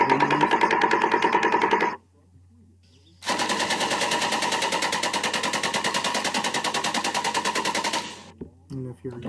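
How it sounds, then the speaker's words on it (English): A belt-fed light machine gun fires two long sustained bursts of rapid, evenly spaced shots, separated by a brief pause, loud and sharp, with a few scattered shots trailing at the end. "Belt-fed light machine gun."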